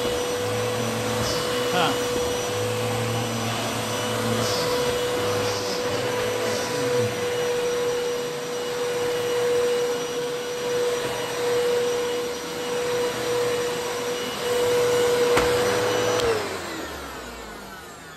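Eureka Clean Living 3281 vacuum cleaner runs steadily on a bare floor with a constant motor whine and airflow roar, close and loud, with brief rattles of picked-up debris before the motor winds down near the end; a short voice is heard once.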